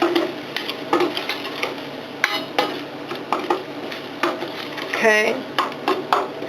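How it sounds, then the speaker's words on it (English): Onions cooking in a pan for a one-pan zucchini meal, with a soft sizzle under repeated clinks and scrapes of a utensil stirring against the pan, and a brief spoken word. "my onions are cooking up really nice"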